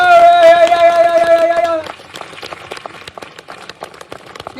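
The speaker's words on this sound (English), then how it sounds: "Chance to clap again." A sung note from a 12-year-old performing holds for a moment, then gives way to a scattered crackle of audience clapping that continues steadily and fairly loud.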